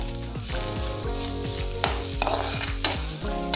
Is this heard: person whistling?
no